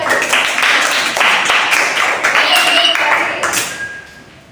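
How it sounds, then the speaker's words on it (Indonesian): A classroom group claps for the team called group K, a dense, steady patter of many hands close by that fades toward the end, with voices mixed in. "Boleh tepuk tangan dong buat kelompok K"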